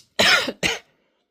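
Two sharp, close coughs in quick succession, then silence.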